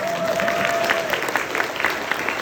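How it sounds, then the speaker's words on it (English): A small audience gives a brief, sparse round of polite applause at a talk, a steady patter of claps lasting a few seconds with no voices over it. "a pity clap is better than no clap"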